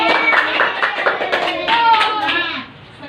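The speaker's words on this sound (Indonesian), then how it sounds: "Silakan tepuk tangan untuk diri masing-masing." Schoolchildren in a classroom clap for themselves, a burst of fairly close hand claps mixed with excited young voices and chatter, tapering off near the end.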